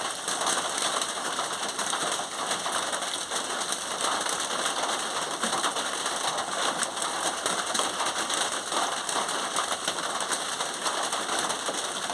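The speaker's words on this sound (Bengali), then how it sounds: "এত বৃষ্টি হচ্ছে বাইরে বেরোনো যাচ্ছে না" Steady, dense rain hisses without pause, a constant wash of falling water close by.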